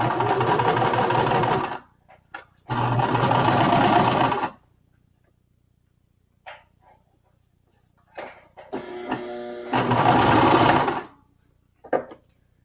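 A sewing machine stitching a set-in sleeve runs in several rapid, loud bursts of stitching separated by quiet pauses and short stop-start taps.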